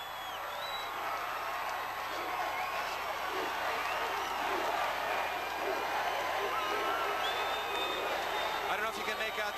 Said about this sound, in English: I don't know if you can make out the cheer from the crowd, but they're chanting USA, USA